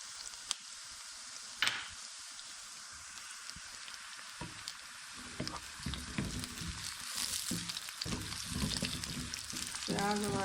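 Onions, then chopped ginger and garlic, frying in a pan for a hotel-style peas and potato curry. There is a steady, moderately loud sizzle with a few sharp clinks early on, and the frying grows louder and crackles more toward the end.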